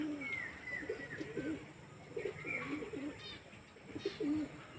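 Pigeons coo at dusk, the soft repeated throaty calls coming in several bursts across the clip, with a faint higher bird call and quiet background hiss.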